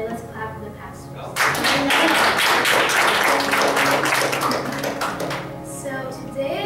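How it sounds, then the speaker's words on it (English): A church congregation claps for the pastors, a loud burst of many hands starting after a quieter opening and holding steady, with voices mixed in. "let's clap for the pastors"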